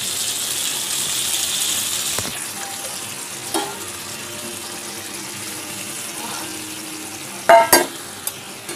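A potato, pointed gourd and shrimp curry sizzles in a pan as it is stirred, a steady frying hiss with intermittent scraping clanks of the spoon, close and without talk.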